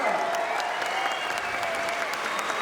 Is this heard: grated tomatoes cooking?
no